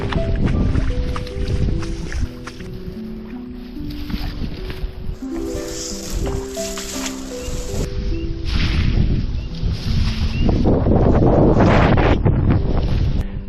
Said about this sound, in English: I just dragged my kayak all the way through there.